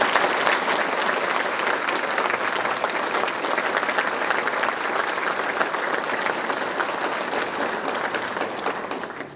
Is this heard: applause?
yes